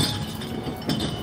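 Metal cans clinking against one another as they are picked out from plastic waste by hand, a short cluster of light clinks with a brighter knock near the end.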